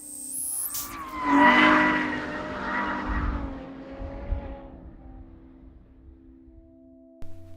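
A Ferrari F12 with a 6.2-litre V12 slides, its tyres squealing in a long skid as the engine note rises and fades, loud at first then trailing off and ending with a short thump.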